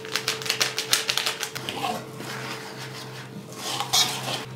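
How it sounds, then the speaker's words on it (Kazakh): Cocoa batter mixture stirred in a bowl for whoopie pies, a quick run of close, rhythmic scraping and clinking strokes against the bowl that slows and then gives way to a softer scrape near the end. "Араластырамыз."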